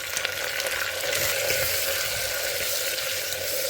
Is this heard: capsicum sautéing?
yes